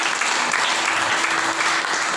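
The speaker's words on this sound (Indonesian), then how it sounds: "Tepuk tangan bagi Tuhan." A church congregation claps together after a sermon, a steady wash of applause at moderate loudness with faint voices mixed in.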